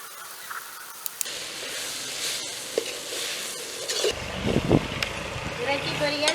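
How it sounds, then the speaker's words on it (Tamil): Fried chicken pieces in a Jaffna village kitchen, with tomato sauce added, sizzle in hot oil with a steady hiss. Stirring clatters and scrapes occasionally, and the frying grows louder and busier toward the end. "வெக்கையில் வச்சுட்டு இந்த இறைச்சியை போட்டுவோம்"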